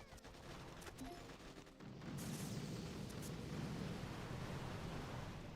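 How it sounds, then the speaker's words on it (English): Heavy bombardier gunfire from a video game boss fight against the Anniversary Crab, a dense, continuous roar of rapid shots and blasts that swells louder after the first couple of seconds and holds steady. "Hear this? Those bombardiers can take out the rocket launcher."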